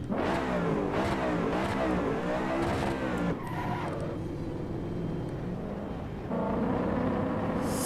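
A race car engine in Assetto Corsa EVO revs up through several gears with rising and falling pitch, then settles into a lower steady drone before climbing again, loud and alone.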